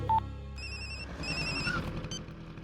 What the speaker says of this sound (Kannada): ಫೋನ್ ರಿಂಗ್ ಆಗ್ತಿದೆ, ರಿಸೀವ್ ಮಾಡ್ತಿಲ್ಲ